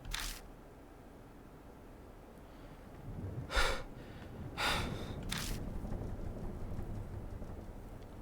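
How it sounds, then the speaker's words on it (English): Shaky breathing in a video game, several sharp gasping breaths, some with a near snort, over a steady rain-like hiss in a quiet, tense scene. "The only sound left is that of our shaky breathing."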